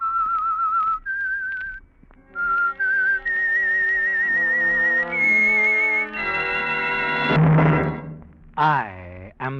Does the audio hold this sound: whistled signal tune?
yes